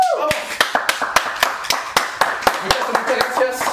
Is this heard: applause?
yes